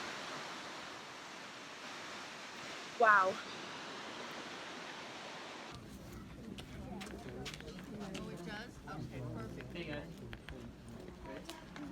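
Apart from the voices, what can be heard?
waterfall near Mendenhall Glacier, Alaska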